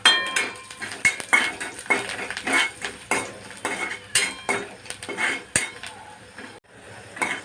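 A spoon stirring onion with curry leaves, chilli, turmeric, coriander and salt in a kadhai gives repeated close metallic scrapes and clinks in a steady rhythm, fairly loud, with a faint sizzle underneath.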